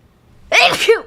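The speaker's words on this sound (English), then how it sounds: "Sorry, oh, I'm gonna sneeze again." A single sharp, close sneeze erupts after a brief quiet moment, with a quick intake of breath before the burst.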